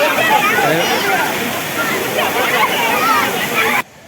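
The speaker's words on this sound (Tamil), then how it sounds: "இது இன்னும் நல்லா தண்ணி வேகமாக தான் வந்துன்னு இருக்குது" A forest waterfall pours fast-flowing water in a loud, continuous roaring rush, with someone talking over it, then cuts off abruptly near the end.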